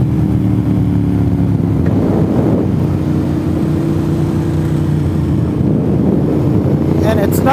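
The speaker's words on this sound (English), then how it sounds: "I can actually hear the bike though, over the wind noise." Steady, loud roaring wind buffeting inside a motorcycle helmet while riding toward Deal's Gap on the Tail of the Dragon, with low engine drone underneath, continuous throughout and ending in brief higher rustling.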